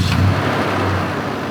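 A 1996 Toyota Tundra pickup truck with 236,000 miles catches and settles into a low, steady engine rumble, brief and close.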